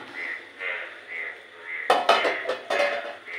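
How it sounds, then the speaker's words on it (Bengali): A metal lid and pot are handled while preparing to cover Bengali kacchi biryani, with a few sharp clanks and scrapes after a softer stretch of faint clatter, close by and with no talking. "ঘি দেওয়ার আগে আমি যে ঢাকা দেওয়ার পাত্রটা রেডি করে দিই"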